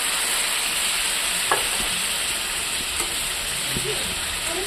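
Water hits paneer frying in a hot pan, producing a loud, steady sizzle that hisses without a break, with a few faint stirring scrapes and taps beneath it.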